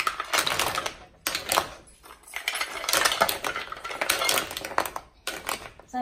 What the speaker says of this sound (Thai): ตอนนี้ก็จะใส่หอยลงไปนะคะ